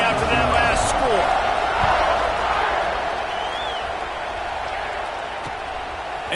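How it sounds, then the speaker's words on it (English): Stadium crowd at a college football game buzzing after a score, a broad, continuous murmur of many voices that eases slightly over several seconds, with a few faint thuds. "this crowd is buzzing after that last score"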